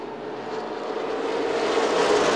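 Late model sportsman race cars roar past the line on an oval track, a broad engine rush that swells louder as the field goes by.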